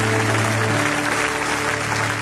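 A church congregation applauds and cheers, a dense continuous wash of clapping with a steady tonal hum underneath throughout.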